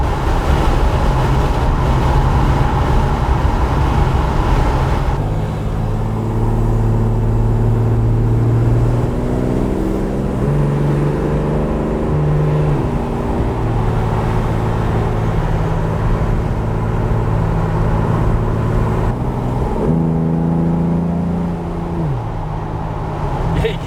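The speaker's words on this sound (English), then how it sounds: "Those Webbers, can't you? They've got a unique sound. They sound fantastic." A VH Commodore engine fitted with Weber carburettors idles and revs in steady, loud bursts, its tone rising and falling over a constant low rumble.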